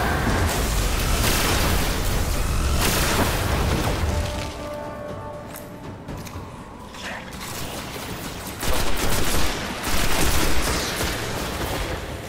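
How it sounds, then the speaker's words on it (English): Grenade in the Destiny video game on Xbox One thrown and detonating amid ongoing gunfire, loud booms and rapid shots at first, a quieter lull mid-clip, then more heavy blasts near the end. "Throwing a grenade."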